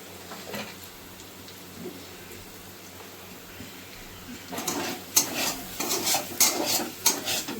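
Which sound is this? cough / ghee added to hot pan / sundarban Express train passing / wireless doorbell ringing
ghee added to hot pan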